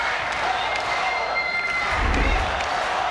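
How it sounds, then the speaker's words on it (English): Home crowd at a college women's volleyball match between the Rainbow Wahine and UC Davis, a steady roar of cheering and urging that swells near the end, with an announcer talking over it. "Crowd trying to urge the home team on"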